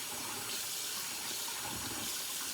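Cloudy rinse water poured off raw rice in a kitchen while making one-pan chicken and rice: a steady, close, continuous splashing gush of water lasting throughout, with no talking.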